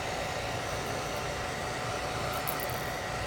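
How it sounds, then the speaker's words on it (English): A blow dryer blows warm air in a steady, loud, unbroken rush with no pauses or voices. "it's good to have a blow dryer handy and just kind of apply"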